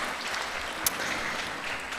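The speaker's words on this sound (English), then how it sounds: "Please, a broad applause to them." A conference audience at the Kampala Geopolitics Conference claps for its speakers, steady, fairly soft applause filling the room for two seconds with one sharper clap standing out.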